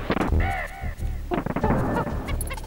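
Harsh bird cries from the vulture enemies in a forest level of Donkey Kong Country on the SNES, a few repeated squawks layered over busy, loud game music and sound effects.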